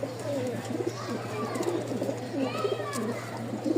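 A large loft of pigeons, including giribaj, lakka and lotan breeds, coos in overlapping throaty calls, close and continuous over a low steady background hum.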